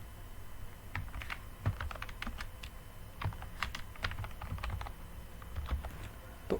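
Rapid clicking of computer keyboard keys while entering text in CorelDraw, a busy irregular stream of close, crisp taps with a few louder strokes and no speech over it.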